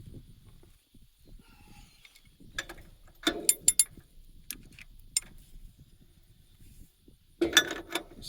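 A large 3/4 inch ratchet is worked on a stock trailer's running gear, giving short bursts of rapid metallic clicking with pauses between and a final longer click run near the end.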